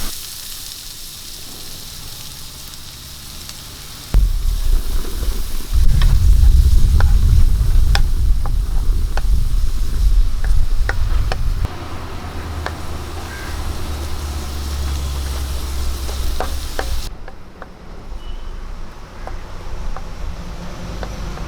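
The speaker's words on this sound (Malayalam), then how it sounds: "കുറച്ച് എണ്ണ ഒഴിച്ചു കൊടുക്കാം ഇതിലേക്ക് നമുക്ക് ഒരു സവോള പൊടിയായിട്ട് അരിഞ്ഞത് ഇട്ട് കൊടുക്കാം" Finely chopped onion hits hot oil for an egg curry, bursting into a loud sizzle that settles into steady frying with scattered small pops and clicks before easing off near the end.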